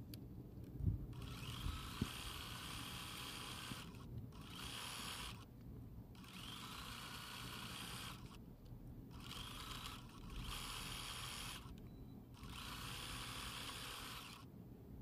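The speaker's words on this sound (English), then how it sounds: "And there's one seam that runs right in the middle. So I'll give that a good pin. And we'll sew that seam." A sewing machine stitches a seam on a T-shirt quilt top, running in steady whirring bursts with brief stops between them. The sound is faint and close, and no one talks.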